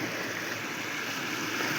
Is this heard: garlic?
no